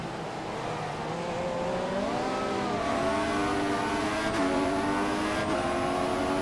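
An F1 car in F1 2014 on the Hungary circuit screams as it passes a Lotus back marker, a high, rising engine whine shifting pitch through the gears, close and steady.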